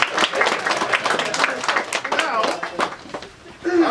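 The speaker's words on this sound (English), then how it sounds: "an applause for the craftsperson" Audience applause at a book signing, a dense patter of many hands clapping that holds steady for several seconds before fading, with a voice coming in at the end.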